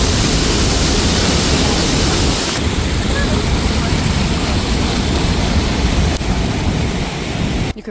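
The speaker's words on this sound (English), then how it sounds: "hearing how loud that water is rushing next to you" Water at Niagara Falls thunders past close by, a dense and loud rushing roar that holds steady throughout with no pause.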